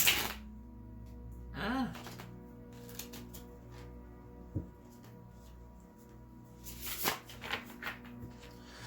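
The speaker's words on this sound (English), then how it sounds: "This deck is a little hard to shuffle." Quiet shuffling of a large tarot deck, soft papery riffles and card slaps in short bursts, with a few breaths and sighs close by.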